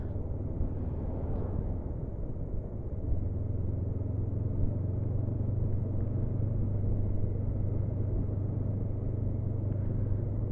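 The smooth twin engine of a Honda CB500F motorcycle hums steadily at low pitch while riding in town, with a constant muffled rumble and a slight change in tone about three seconds in.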